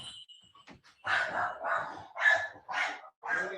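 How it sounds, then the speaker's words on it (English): A dog gives a run of sharp, fairly close barks, five or six in quick succession after a quieter start. "My white dog is attacking"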